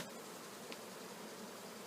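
Honeybees drone steadily around an open hive as frames are pulled from a honey super, a soft continuous buzz with no voices.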